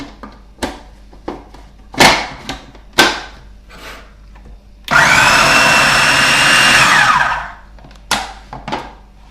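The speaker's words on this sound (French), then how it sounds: "Et je vais mixer." A kitchen blender whirs steadily for about three seconds as it purées hummus seasoned with salt and pepper, framed by scattered clicks and knocks of handling before and after.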